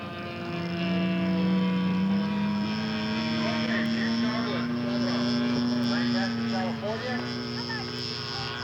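A scale model Baby Ace aircraft drones overhead on its first flight, the engine tone rising gradually and holding steady, with a voice talking over it throughout.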